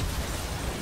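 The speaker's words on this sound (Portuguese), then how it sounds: "Aí vocês podem ver que essa explosão meio que afasta" A brief, loud explosion in the StarCraft 2 co-op game, a dense broadband burst with a deep rumbling body that fills the whole moment with no speech.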